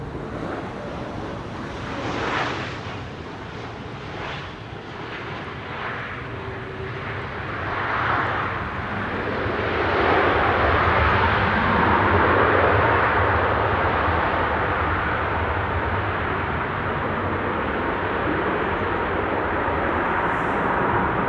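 A WestJet Boeing 737 Max 8 arriving from Halifax at Amsterdam Schiphol builds from a distant hiss into a loud, broad jet roar that holds steady as the aircraft passes, with some wind buffeting the microphone.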